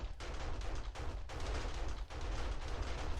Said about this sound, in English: that's my perimeter turrets having fun out there